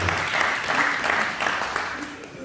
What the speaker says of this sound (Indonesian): Beri tepuk tangan dulu yang baru buat Tuhan